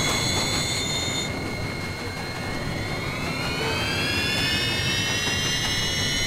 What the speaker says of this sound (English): Oh, the engine's still going? Well, I don't like the sound of that.